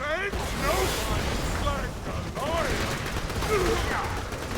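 Heavy firefights rage in the video game Borderlands 2, with dense rapid gunfire and explosions running continuously while someone talks over the noise.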